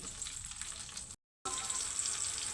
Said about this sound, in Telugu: ముక్కలు చేసి పెట్టుకున్న మిరపకాయలు వేస్తున్నాను